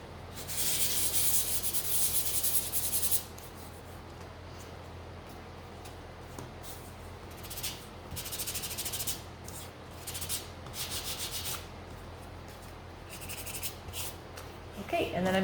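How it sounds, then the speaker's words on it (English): Small painted wooden sunflower gnome pieces are sanded by hand, a steady scratchy rubbing that is loudest early on and then continues in shorter, softer strokes. "So I'm gonna do those again. Give them a sand."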